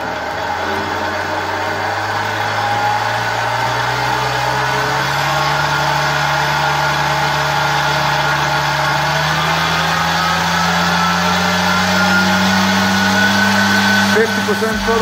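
An RC electric motor with propeller spins up on a test setup with a watt meter, a steady whine that climbs slowly in pitch as throttle rises, loud and continuous.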